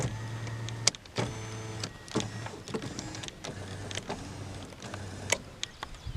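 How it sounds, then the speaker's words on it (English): Electric power windows on a 1999 Pontiac Firebird V6 run up and down several times, each pass a steady motor whine lasting under a second, with short pauses and soft clicks between runs. "as well as power windows."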